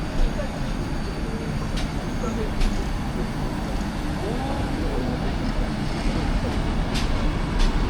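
A train idles at a Moroccan station before departure to Marrakech, a steady broadband rumble with a few sharp clanks, while people talk nearby.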